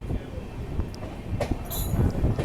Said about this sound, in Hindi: पीछे से आ रही है नई दिल्ली राजगीर श्रमजीवी सुपरफास्ट एक्सप्रेस।